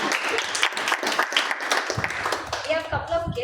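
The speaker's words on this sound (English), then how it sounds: "So one round of applause." A round of applause at a meeting, with a dense burst of clapping that fades out after a few seconds as speech comes in.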